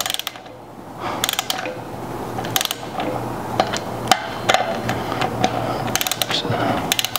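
A wrench tightening the brake disc bolts on a Yamaha TW200 motorcycle gives off a series of close metallic ratcheting clicks and taps in short bursts, with a steady low hum underneath.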